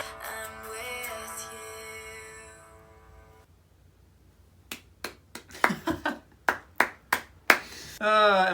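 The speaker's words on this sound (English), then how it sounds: "Am I gonna give a round of applause to every song on this album?" Hands clap in a quick irregular burst of about a dozen sharp, close claps after music fades out, followed by a voice.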